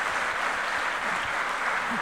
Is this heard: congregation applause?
yes